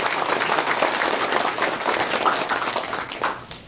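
An audience at a community association gathering claps warmly for its newly elected officers and chairman. The applause is dense and steady, then fades out near the end.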